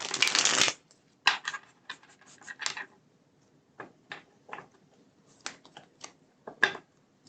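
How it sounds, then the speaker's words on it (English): Tarot cards are shuffled in repeated short riffling bursts, a long flurry at the start followed by scattered quick flicks and taps, close and fairly quiet. "Okay, let's shuffle these up."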